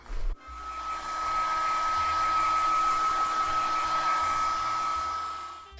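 A hair dryer switches on and blows with a steady whirring roar and high whine, drying acrylic paint, close and loud, running continuously for several seconds.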